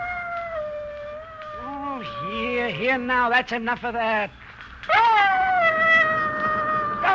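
A dog named Ranger howls in long wavering tones and breaks into whimpering yelps, loud and close, while someone speaks over it trying to calm him.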